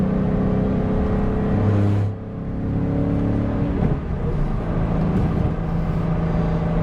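A 2001 Ford Mustang Bullitt pulls hard onto an interstate loop, its engine note rising and droning with a brief drop around a gear change, then building again as road and wind noise fill the cabin.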